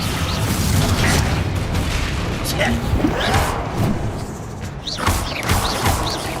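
A Bombarda blasting spell explodes in Hogwarts Legacy, heavy booms and thuds landing amid combat noise, with game voices talking loudly over the battle.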